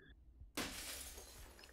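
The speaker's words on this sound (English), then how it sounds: "glass breaks, he's inside the house" Glass shatters in a video game as an intruder breaks into a house: a sudden loud crash after a brief quiet, followed by a bright, sustained tinkling wash of shards.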